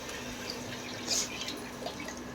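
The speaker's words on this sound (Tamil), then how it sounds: "தண்ணி விட்டுக்கலாம்." Water pours into a cooking pot for tomato rice with a soft, continuous splashing close by, briefly rising to a louder splash midway.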